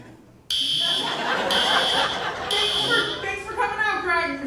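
An indoor fire alarm under test sounds in loud, steady, high-pitched buzzing blasts repeated about once a second, with people talking and chuckling underneath.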